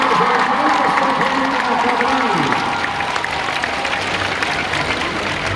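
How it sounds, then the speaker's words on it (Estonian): An audience claps steadily at an indoor horse show after a small-pony quadrille, a broad even wash of applause with a voice heard briefly over it at the start. "Teeme kogu sellele seltskonnale hea publik veel ühe suure aplausi."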